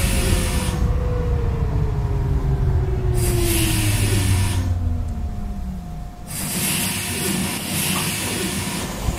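A Keikyu express train in the BVE5 train simulator, a Hokuso 7260 series, slows with long hissing bursts of air brakes and a falling whine beneath, rumbling wheels continuing as the hiss cuts in and out.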